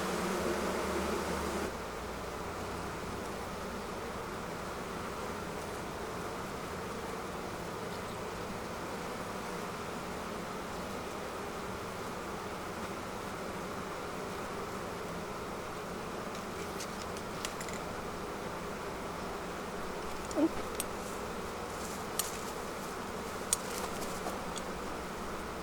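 Honey bees drone in a steady, dense buzz from inside a beehive, continuous and close throughout, with a few faint clicks and knocks near the end.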